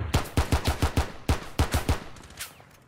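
Rainbow Six Siege gunfire rattles off in quick bursts of closely spaced shots, about a dozen in all, then trails off into faint game noise.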